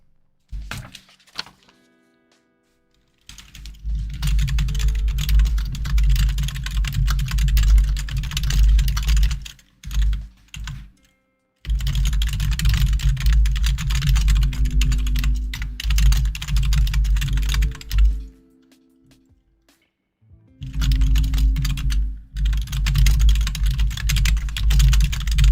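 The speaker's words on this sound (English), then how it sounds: "So I'm just going to go ahead and type in the biography he gave me." Rapid clattering keystrokes on a computer keyboard as a biography is typed, close and clear, in three long runs broken by short pauses, with occasional heavier key thunks.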